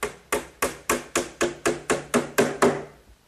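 Ten evenly spaced hammer blows drive 5-penny box nails into a glued wooden top frame, each a crisp close knock with a short ringing tail, steady and unaccompanied.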